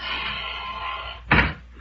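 Wooden door shut with a single solid thud inside a room, an old-time radio drama effect, heard alone after a steady background hum.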